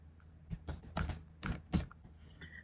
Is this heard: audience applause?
no